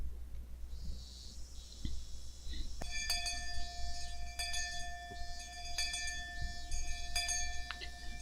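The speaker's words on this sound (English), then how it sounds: "The bell rung, sounding the end of a monotonous school day" A school bell rings in the visual novel Higurashi When They Cry, a clear electronic tone chiming in several repeated bursts over a faint steady background hum, with no voices.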